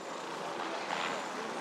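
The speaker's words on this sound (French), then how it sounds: "Un balai d'hélicoptères occupe l'espace une bonne partie de la journée." Helicopters fly over a high Himalayan valley near 5,400 m in the Paldar region. A steady, fairly distant broadband whoosh holds for the whole stretch and swells slightly near the middle, with no distinct blade chop.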